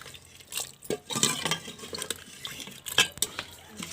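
A spoon scrapes and clinks around a pot, stirring chicken and water with irregular knocks and wet swishing sounds, close and moderately loud.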